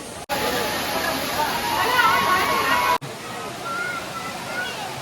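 The Hathni Mata waterfall in Panchmahal, Gujarat roars steadily nearby, a broad continuous wash of water with faint voices in the background; the sound cuts briefly twice.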